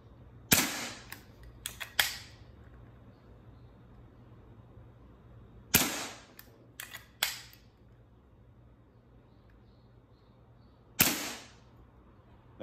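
Pistol shots fired at a target on a shooting range: sharp, loud cracks arriving in three bursts of several rapid shots each, separated by pauses of a few seconds, with quiet background between them.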